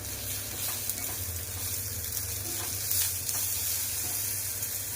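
Ginger pieces sauté with curry leaves in a pan of hot oil for Tirunelveli sodhi kulambu, a steady close sizzle with light stirring scrapes and a low hum underneath.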